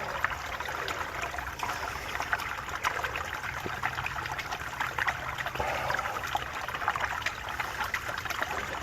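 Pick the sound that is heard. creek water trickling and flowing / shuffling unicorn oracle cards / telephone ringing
creek water trickling and flowing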